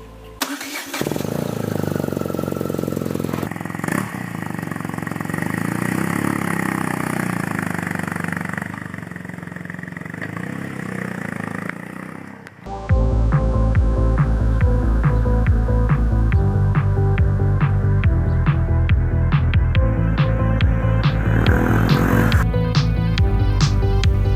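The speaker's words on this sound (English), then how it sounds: "The Urban GS has some pretty good pickup off the bat from the air-cooled 170cc motor." An air-cooled BMW R nineT Urban G/S motorcycle engine turns over and settles into a steady idle, then fires up loud and revs hard with rhythmic throttle blips while riding. The sound is close and has no speech.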